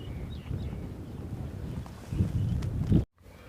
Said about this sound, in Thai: ลมพัดฉิวตลอดทั้งวันเลยนะครับ